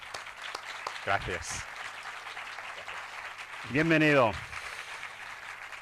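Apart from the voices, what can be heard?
audience applause welcoming an author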